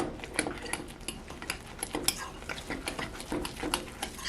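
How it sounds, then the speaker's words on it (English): A spoon scrapes and taps against a bowl while flour and baking powder are mixed into a potato latke batter, giving quiet, irregular clinks and scrapes at close range without speech. "And let's stir that in."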